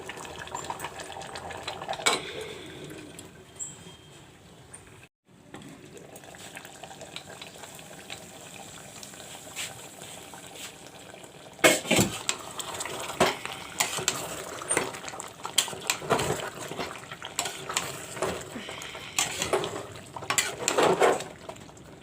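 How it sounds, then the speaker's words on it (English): Mutton curry cooking in a pot as its released water dries up, ahead of frying the meat with masala; a continuous soft sizzle and bubble runs throughout, with occasional utensil clatters and stirring knocks growing busier toward the end. "This will dry up and I will fry the meat nicely."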